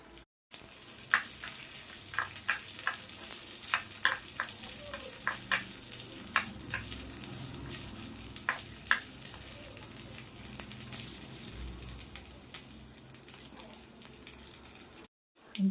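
Food sizzles steadily in a hot pan on a small kitchen stove while a utensil scrapes and stirs it in scattered clicks, close up and fairly quiet.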